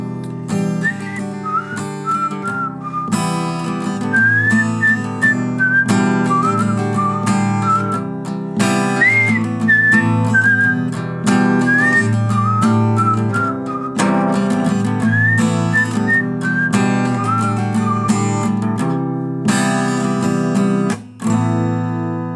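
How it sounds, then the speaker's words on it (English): A clear, close whistled melody, a guitar solo, glides and trills over steady acoustic band accompaniment, carrying the lead line for about twenty seconds. "I whistle the solo. I try to whistle it."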